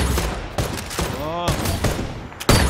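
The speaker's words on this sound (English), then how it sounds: "eu tava com a minigun matando um monte de bot ali" Rapid bursts of minigun fire against bots in a military shooter game, dense and loud, broken by short pauses, with a voice calling out over the shooting.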